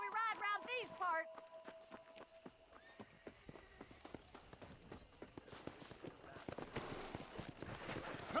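A horse whinnies, then its hooves clip-clop in a steady, quickening rhythm as it is ridden in Red Dead Redemption, the hoofbeats growing busier and louder toward the end.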